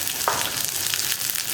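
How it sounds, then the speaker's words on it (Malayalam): Small onions hitting hot oil with popping mustard seeds, a steady broadband sizzle throughout with a faint stir or clink near the start and a sharper knock at the very end, close and moderately loud. "നമ്മുടെ കടുക് പൊട്ടി കഴിയാറായിട്ട് നമുക്ക് ഉള്ളി ചേർത്ത് കൊടുക്കാം."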